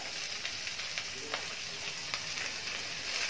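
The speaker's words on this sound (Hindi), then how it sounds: "अब इसमें ये मेथी डालेंगे और इसे 4 से 5 मिनट सौटे करेंगे" Fenugreek leaves sautéing in melted ghee over a medium flame give a steady, close sizzle and frying crackle, with faint stirring clicks scattered through it.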